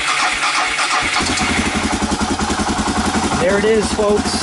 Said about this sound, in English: After sitting for 4 months, the old DR fires right up into cold.